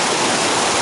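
High winter river water rushes loudly and steadily nearby, a dense unbroken roar of churning current with no pauses and no voices.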